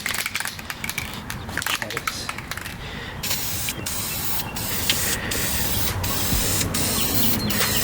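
Spray paint hissing onto a faded bucket seat, short rapid bursts at first, then a steady continuous spray that grows louder and holds, with clicky handling noises mixed in.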